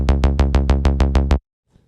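A punchy, rolling psytrance bass line pulses in quick even notes with no kick drum, then cuts off abruptly into silence.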